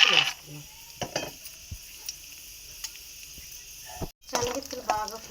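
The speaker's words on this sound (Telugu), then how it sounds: "నూనె వేడైంది కదండి, శనగపప్పులు వేసుకుందాం" Chana dal sizzles in hot oil for a pulihora tempering, a faint frying crackle with a few spoon clinks and scrapes and a louder burst of sizzling near the end.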